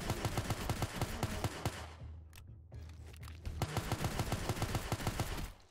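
Rapid 9mm gunfire in a shooter video game, a fast rhythmic string of sharp shots that pauses briefly in the middle and then resumes at a steady rate.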